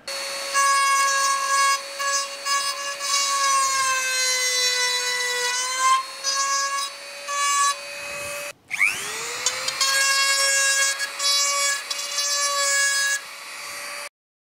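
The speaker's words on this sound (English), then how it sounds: "Here I've got a 4 millimetre round grinding stone." A 4 mm round grinding stone cuts a chamfer, giving a loud, continuous high-pitched whine that dips briefly in pitch under load, cuts out for a moment, then spins back up, close with no voices.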